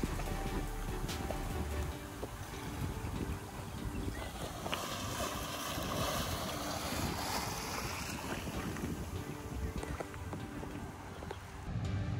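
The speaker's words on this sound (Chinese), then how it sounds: "有浪" Ocean waves wash in along the coast of Checheng in Manzhou, Pingtung, under steady, heavy wind buffeting the microphone, forming a continuous roar with no talking.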